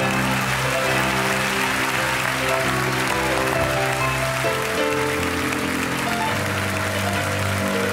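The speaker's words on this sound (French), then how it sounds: "Applaudissez Monsieur Michel Lèves." A live French variety show's audience claps steadily for several seconds, a dense, rain-like wash of applause heard close and loud with no voices.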